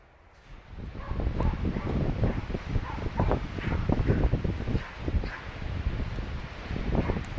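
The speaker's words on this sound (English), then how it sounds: "the wind's picked up again today" Wind blows outdoors in a steady, gusty rumble that buffets the microphone throughout, with faint rustling mixed into the roar.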